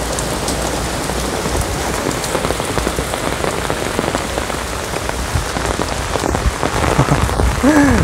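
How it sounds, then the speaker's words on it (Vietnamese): Steady early-morning rain falls on surfaces as a dense, even patter, loud and close throughout with no talk over it. "Mới sáng rồi mưa sớm này trời."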